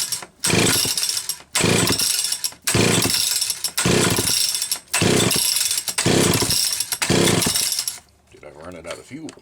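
A Homelite Super XL Automatic chainsaw revs loudly in six repeated full-throttle bursts with brief dips between them, then drops to a rough, low idle near the end.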